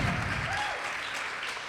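Live-show audience applause for the cast of a radio drama performance, a dense steady wash of clapping at fairly close range that holds for under two seconds and eases slightly at the end.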